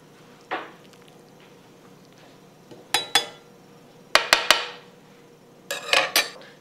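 Enchiladas being plated onto dishes: a few sharp clinks and scrapes of utensil against plate, in scattered clusters of two or three hits, close and fairly loud over a quiet room.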